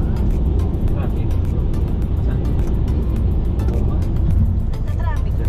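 Steady road traffic on a Taichung expressway in Taiwan, a continuous low rumble of cars with occasional passing vehicles, heard from inside or beside the flow, with people talking over it.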